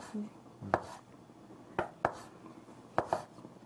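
Knife chopping konjac on a cutting board in a kitchen, with about six crisp, separate knocks coming in loose pairs at moderate volume, close by, over a faint background hiss and no talk.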